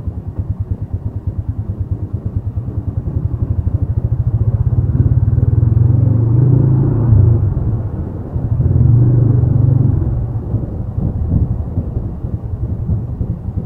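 A manual-clutch motorcycle rumbles along, its engine throbbing steadily and swelling louder as the rider brakes with rear then front brake before turning at an intersection, then settling back to an even idle-like chug.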